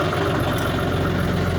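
A tractor fitted with a satellite land leveler idles, a loud, steady, low engine rumble, with someone talking over it.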